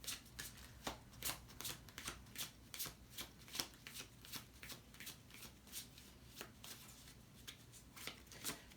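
Tarot cards are handled and shuffled close by, giving quiet, crisp riffling bursts that repeat in a steady rhythm about twice a second, with no talk.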